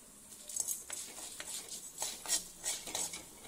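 Urad dal stirred in a pan during tempering for vallarai keerai thuvaiyal, a faint scraping of the spoon with light clinks and patter, close and alone.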